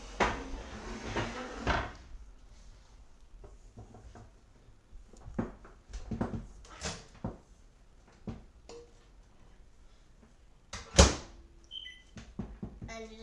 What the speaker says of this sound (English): So I'm just gonna put this in the microwave.